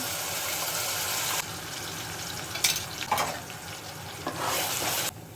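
Blended spice paste goes into a pan of fried onions for a village-style chicken curry. A steady sizzle of frying is broken by a few sharp scraping stirs, close and clear.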